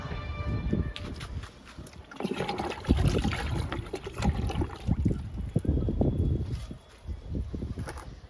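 Kitchen waste liquid trickles and splashes as it is poured onto potted flowering plants, a close, uneven dribble in short bursts, with a voice speaking at times.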